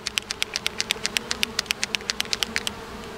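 A honeybee lodged against a hive grille gives a close, pulsing buzz in quick, steady bursts, with no talking over it.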